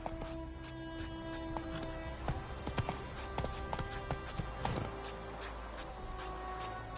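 Horse hooves clip-clopping at a steady trot from The Witcher 3, a repeating rhythmic patter of hoof strikes over a low ambient bed and game music, moderately close and continuous.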